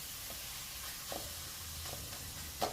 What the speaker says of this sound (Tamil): இப்போ தக்காளி எனக்கு சீக்கிரம் வதங்கிறதுக்காக உப்பு மஞ்சள் போட்டு நல்லா வதக்கிக்கிறேன்